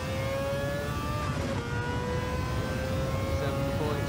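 A Mazda 787B race car engine drones steadily at high revs with a constant whine on Fuji Speedway in Gran Turismo 7, holding loud throughout.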